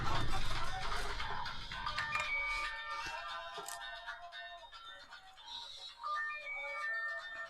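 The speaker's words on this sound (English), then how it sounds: "My phone's ringing." A phone ringtone plays a bright melodic tone pattern, repeating a few times at moderate volume with light background noise.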